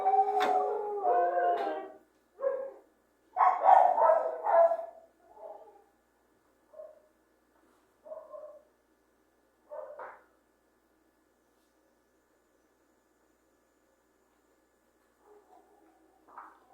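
Dogs bark and howl in a loud burst, then fade into scattered, fainter barks and yips with long pauses between them.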